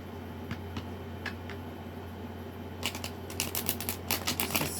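Tarot cards are shuffled softly at first, then a quick run of sharp riffling snaps builds toward the end, close and faint with no talking.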